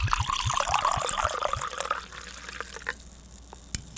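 Red blend wine poured into a glass: a close gurgling, splashing stream that tapers off into a few light drips and quiet, with no voices over it.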